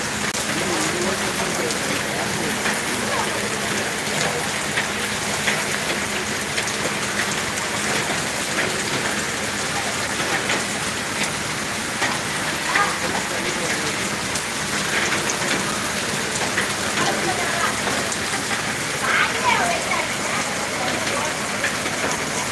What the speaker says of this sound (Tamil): ஒரு பத்து நிமிஷம் அப்படி மழை பெஞ்சிகிட்டு இருக்கு